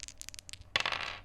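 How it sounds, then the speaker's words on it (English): Dice for a tabletop role-playing game rattle in a few light clicks, then hit the table in a sharp, bright clatter that quickly fades. "Roll a dice."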